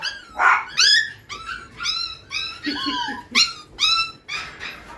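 Several puppies yipping, barking and whimpering in quick overlapping bursts, close and lively, with a few low growls mixed in.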